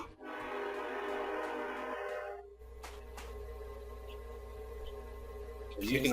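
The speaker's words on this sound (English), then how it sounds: "Cue the train." Train in the FortressCraft Evolved game, a loud rumbling run with a long sustained horn-like tone for the first couple of seconds, then steady low rolling noise and a rising burst at the end.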